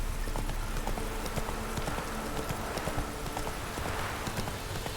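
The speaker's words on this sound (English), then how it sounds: "Not so fast, Roach." Horse hooves clip-clopping steadily at a walk in the video game The Witcher 3, a continuous rhythmic trot heard close over ambient background.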